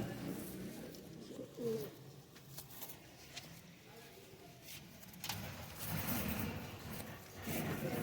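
Soft pigeon coos come in a few short bursts, close and fairly faint, with quiet background noise and passing traffic. People speak at times.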